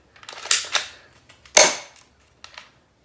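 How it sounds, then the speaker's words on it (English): An M43 Gilboa gel ball blaster fires with a sharp crack, then makes a series of close mechanical clacks and snaps as it reloads, moderately loud with short gaps and no talking. "I've fired a shot and loaded a second one"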